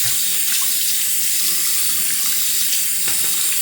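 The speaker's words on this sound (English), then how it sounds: "Gonna rinse the blade real quick." A straight razor blade, a Focus frameback, is rinsed under a running kitchen tap: steady, loud splashing water close by for a few seconds, with no talk.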